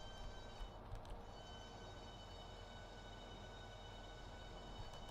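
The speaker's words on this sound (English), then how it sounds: "Let's get the entire train in now, and then we'll bring it to a full stop." A passenger train on the East Coast Main Line brakes toward a stop at the Stevenage platform, giving a steady, faint low rumble of wheels and running gear with a few soft knocks, heard from inside the cab.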